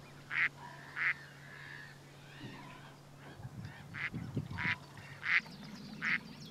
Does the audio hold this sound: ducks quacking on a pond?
yes